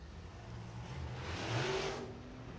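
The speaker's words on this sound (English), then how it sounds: "First car rolling out, you see in the purple number 2X." A USAC race car, the purple number 2X Mullins-powered machine, rolls out at Red Hill Raceway, its engine rising to a brief louder rev in the middle before settling back to a steady mid-distance rumble.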